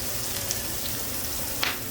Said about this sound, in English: You hear that sizzle? Woo! Little pop in there with the oil.